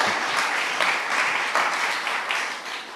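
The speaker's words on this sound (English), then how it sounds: "join me again, please, in one more round of applause for Chancellor King" A large audience applauds for Chancellor King at a New York City economic mobility forum, steady dense clapping that holds for the whole stretch without talk.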